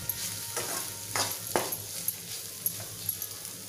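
Okra bhaji being stirred in a pan after adding ground peanut powder: a faint fry hiss with several soft scraping strokes spread over a few seconds, no voices.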